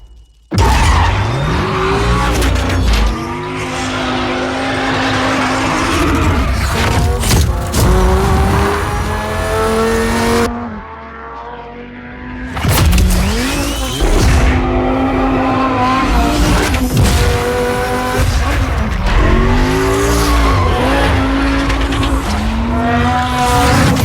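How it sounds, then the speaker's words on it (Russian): A roaring race car engine in a Pennzoil Viper commercial revs hard with repeated tire squeals and skids, loud and close, briefly dropping away before roaring back. "Есть только рев мотора, визг шин и кое-какие мелкие детали."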